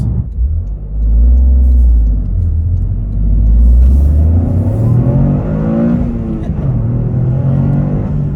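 Toyota GR Corolla in sport mode with all-wheel drive set to track mode, engine revving and pulling hard through the gears, a loud close rumble with rising tones and brief dips between shifts.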